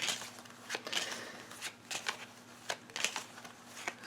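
A deck of tarot cards being shuffled close up, repeated quick riffling and flicking bursts in an uneven rhythm, fairly quiet with no talk.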